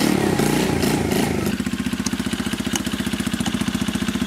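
A Honda Dax 50cc moped fitted with an NHRC exhaust starts up and settles into a steady, close idle, a rapid even putter with a slightly uneven rev at first, with no talking.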